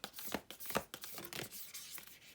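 Large, oversized tarot cards being shuffled by hand: a close, quiet run of papery riffles and slides in uneven bursts, without talk.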